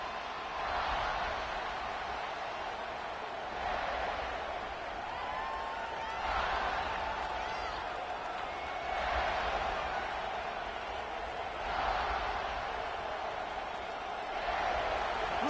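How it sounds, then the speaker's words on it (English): A football stadium crowd at a Texas A&M versus South Carolina game keeps up a distant, continuous roar of cheering that swells and eases in waves throughout. "Listen to the crowd energy here in the early going."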